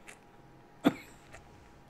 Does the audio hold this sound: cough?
yes